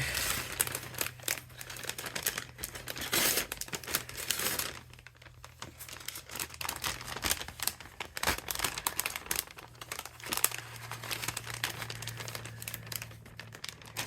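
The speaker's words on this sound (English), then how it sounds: "I'm just gonna cut rabbits out of these" Paper crinkles and rustles steadily at close range as scissors cut rabbit shapes from craft paper for an Easter egg shaker card, with a faint low hum underneath and no talking.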